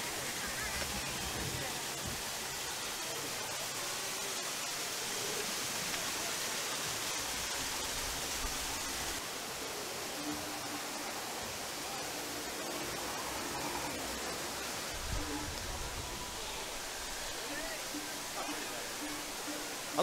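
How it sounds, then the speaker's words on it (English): Illuminated waterfalls at the Pandora, The World of Avatar theme park give a steady, even hiss of falling water, fairly soft and distant, with faint voices in the background. "I love how the waterfalls are all sort of lit up here."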